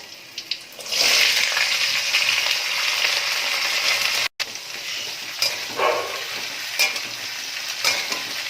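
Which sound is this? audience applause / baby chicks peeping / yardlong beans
yardlong beans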